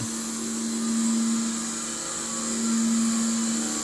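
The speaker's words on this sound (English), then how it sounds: "They've got a cooling fan in there, plus they just run the motor." A Telex X-GEN cassette duplicator's motor and cooling fan running loudly, a steady close-up drone with a humming tone that swells and dips in two passes.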